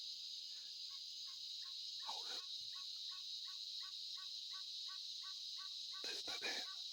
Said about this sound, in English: That's a turkey or something mimicking it.